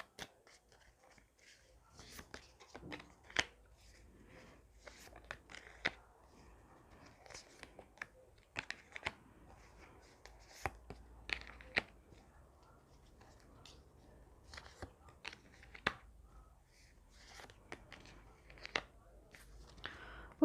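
Tarot cards being shuffled and drawn for a Scorpio reading, quiet papery flicks and slaps scattered irregularly against a near-silent background, with faint soft speech at times.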